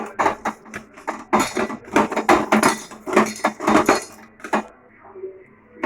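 Six boiled eggs are tossed with salt and turmeric in a dish, producing close, irregular clinks and scrapes of utensil against the dish that fade toward the end.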